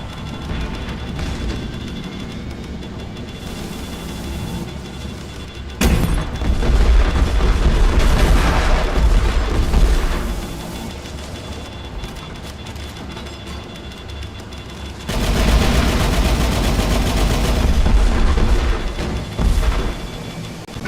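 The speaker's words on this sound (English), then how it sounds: "Missiles away." Missiles and gunfire in the space combat game Angels Fall First, loud continuous roaring booms and rumbling blasts that surge in heavy waves, with thick low rumble and crackling fire throughout.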